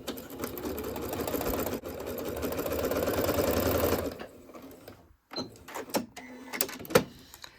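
Sewing machine stitching quilt block pieces at a 2.4 stitch length: a close, steady whirring hum for about four seconds, then it stops, followed by scattered handling clicks and light knocks.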